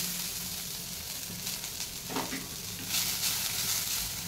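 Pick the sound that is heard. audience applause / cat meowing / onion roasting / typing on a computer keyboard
onion roasting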